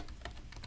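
Typing on a computer keyboard while entering data into a database app for a SQL Server 2016 Always Encrypted demo; a quick burst of several close keystrokes, fairly quiet and steady, with no talking.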